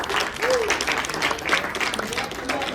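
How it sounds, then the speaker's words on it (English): An audience at a quiz-style event applauds a volunteer heading to the front, a brisk, moderately loud round of clapping with a voice briefly heard over it. "Great, round of applause."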